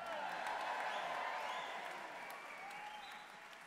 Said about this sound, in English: So all Brits, give yourselves a cheer as well.